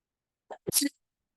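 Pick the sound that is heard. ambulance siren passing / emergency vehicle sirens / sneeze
sneeze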